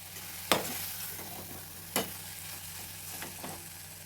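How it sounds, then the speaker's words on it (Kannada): Fresh peas and other ingredients fry softly in a pan with a quiet, constant sizzle, broken by two sharp spatula scrapes and a few lighter stirring clicks. "ಫ್ರೈ ಆಗೋದಕ್ಕೆ ಬಿಟ್ಬಿಡೋಣ ಹಾಗೆ ಸ್ವಲ್ಪ ಹಸಿ ಬಟಾಣಿನೂ ಕೂಡ ಸೇರಿಸ್ಕೊಳ್ಳೋಣ"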